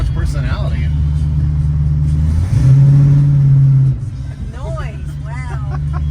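An old Ford Maverick's engine running loud and rough, a steady low rumble that swells briefly as it revs, with people talking over it.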